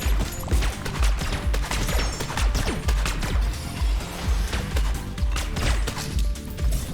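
Rapid stream of light, low-damage weapon shots in the game Neon Abyss, a steady rattling patter of hits and pops layered over a thumping background beat with no talking.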